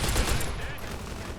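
Gunfire in Fallout: New Vegas crackles in dense overlapping bursts at the start, then thins into scattered shots and battle noise, fairly faint.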